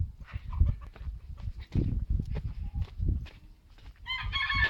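Chicken clucking and squawking in a video game, a run of short irregular calls over low thumping game sounds, ending with a brighter, harsher burst of crowing-like cries.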